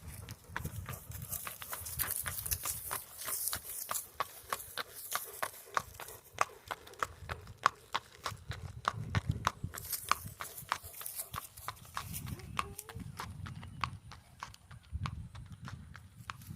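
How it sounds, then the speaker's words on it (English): A horse walks down a paved driveway, its hooves striking in a steady, crisp clip-clop rhythm at moderate distance, with low rumbling background noise and no talking. "here comes Legacy walking down the driveway"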